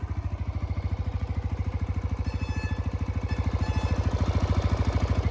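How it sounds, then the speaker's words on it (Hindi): A 2024 TVS Raider 125cc motorcycle idles steadily up close around 1000-2000 RPM, its exhaust putting out a fast, even, low thumping pulse. "कुछ इस तरीके का इसका एग्जॉस्ट साउंड है"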